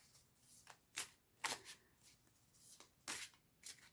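A Wandering Star Tarot deck is shuffled by hand in quick, separate riffling bursts, quiet and close with brief pauses in between.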